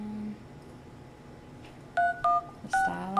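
Phone keypad dialing tones, a handful of short, clear beeps in quick succession after a quiet stretch, fairly close and alone without talk.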